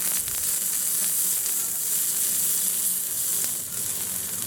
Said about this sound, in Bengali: পেঁয়াজ আর মরিচ কুচি দিয়ে দিয়েছি, একটু ভেজে নেব।